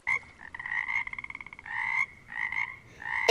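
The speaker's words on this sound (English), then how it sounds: "Yes, that is a frog sound." A pond frog croaks in a series of raspy, pulsing calls, some stretched and some rapid, heard up close with no voices.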